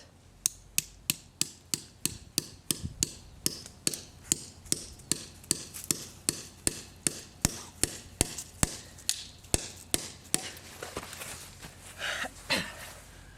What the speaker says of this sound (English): you're just gonna use the hammer and the nail